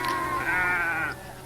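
A single sheep bleats once, close and clear, a wavering cry lasting just over a second with no voices.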